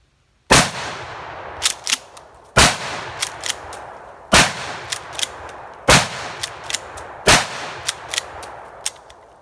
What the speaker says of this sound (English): We are shooting double-aught buck, so it's going to have some thump